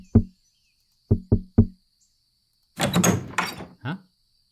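A door opening in the video game Saint Maker: several hollow knocks, then a longer scraping, creaking movement with a final thud, against a quiet background with a faint steady tone.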